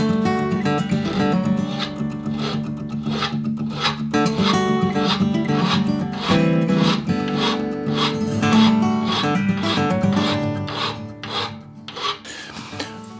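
Stainless steel bike suspension link being filed or ground for weld prep, a continuous rasping, scraping metal sound with steady rhythmic strokes, loud and close throughout, with no talking.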